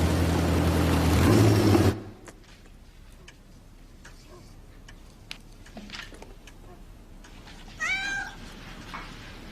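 A pregnant cat meows once near the end, a short, clear, rising call heard after a loud burst of other sound gives way to quiet ticking room noise.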